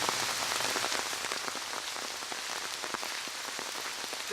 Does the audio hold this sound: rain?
yes